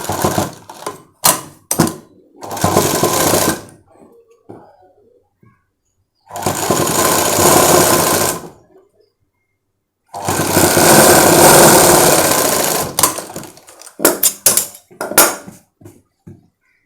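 Sewing machine stitching the lining of a designer sleeve, running in several bursts of steady mechanical whirring separated by short pauses and light clicks of fabric handling, close and fairly loud with no talk.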